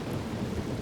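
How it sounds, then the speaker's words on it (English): Thunder from a lightning strike in Fallout 76 rolls as a dense, low rumble filling the whole short moment, steady and fairly loud with no talk. "that lightning is loud"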